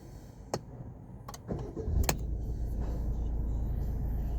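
A Peugeot Rifter car engine starts after a fault reset: a few sharp clicks and a short crank, then it catches and settles into a steady, loud, close idle rumble with no talking.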